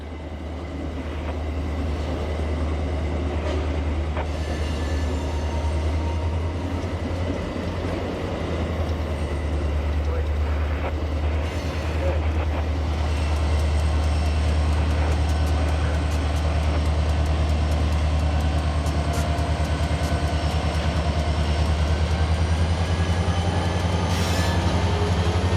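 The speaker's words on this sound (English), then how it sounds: "Amtrak 53 is off toward Charleston, Hardeeville, Folkestone, and Green Cove Springs" An Amtrak Auto Train passenger train rolls past in a steady, loud rumble, with continuous low drone, wheel noise and occasional faint squeals of the wheels on the rails for the full length, no voices.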